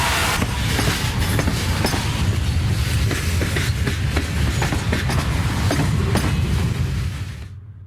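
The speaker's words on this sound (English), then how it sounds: "Train Q215 runs daily between Cincinnati and Jacksonville," A 1995 CSX freight train, Q215 running between Cincinnati and Jacksonville, rumbles past with rhythmic wheel clatter and rail clicks, loud and continuous before fading out.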